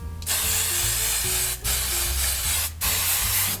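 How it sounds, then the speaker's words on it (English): Steady hairspray hissing close by in two long bursts onto curly hair, briefly cut twice, with faint low hum underneath. "Always spray your hair."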